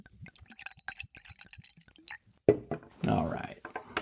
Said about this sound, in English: Get a little bit of this in my glass.